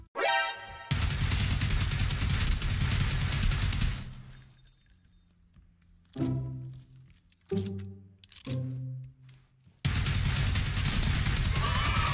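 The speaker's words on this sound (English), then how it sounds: "Suppressed sniper rifle shot to your right" Gunfire in the battle royale game PUBG, including a suppressed sniper rifle: dense, loud bursts of shots and crashing impacts, with sharp isolated reports between quieter gaps.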